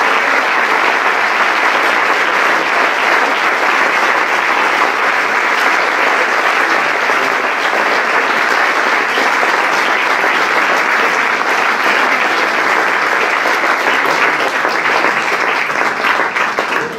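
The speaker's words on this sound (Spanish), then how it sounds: "Un aplauso a los pastores, hermano, un aplauso a los pastores" A church congregation applauds its pastors in loud, dense, sustained clapping that fills the room without a break.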